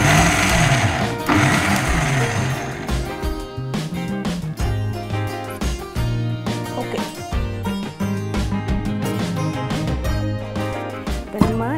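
A mixer grinder grinds ingredients in loud whirring bursts that stop and start with rattling pulses, sounding close and alone in a kitchen.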